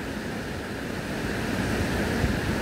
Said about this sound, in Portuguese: o rio é bonito, a cachoeira é bonita